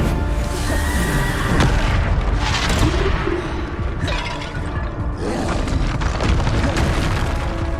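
Repeated Bombarda spell blasts in Hogwarts Legacy boom amid clanking, chaotic combat, several loud, close impacts arriving in irregular bursts with other effects layered between them.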